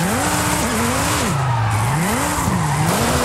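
A Dodge Viper in Forza Horizon 5 drifts down a steep drop. Its tires squeal loudly and without a break, the pitch rising and falling as the slide sweeps through the corners, over a steady engine drone.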